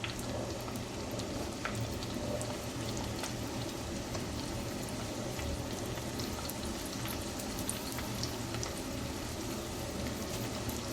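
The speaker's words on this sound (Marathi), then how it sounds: "तर मी मसाल्याच्या बरोबरीनेच टाकतो आहे कांदा" Onion and green chili frying in oil alongside spices for a chicken handi, a steady close crackling sizzle that runs evenly throughout with no talking.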